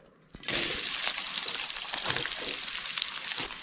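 Sliced onions drop into four spoons of hot coconut oil for a Kerala curry, and a loud, dense sizzle bursts in after a brief quiet moment, then holds steady and close with faint crackles throughout.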